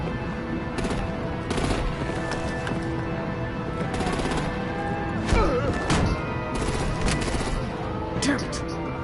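Video game battle with bursts of gunfire and heavy artillery blasts, loud and dense, overlapping with shouted voices throughout.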